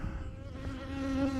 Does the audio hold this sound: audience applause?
no